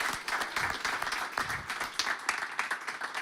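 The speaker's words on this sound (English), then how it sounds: "please give Mickey Gjerris a warm applause for his presentation" Warm audience applause at a gene editing and animal welfare talk, sustained clapping from a seated crowd with some louder individual claps rising and falling across the moment.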